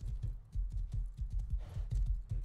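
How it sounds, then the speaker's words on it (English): Horse galloping in a survival video game, a steady run of heavy, rapid hoofbeats close up and fairly loud, with no talk over it. "come on horse, run."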